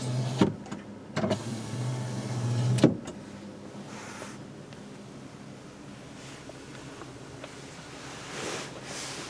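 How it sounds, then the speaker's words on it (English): A power window on a 2018 Toyota Tacoma double cab whirs briefly a few times with short motor hums and clicks, followed by quiet cabin ambience. "double cab models have a power window on all but the SRs"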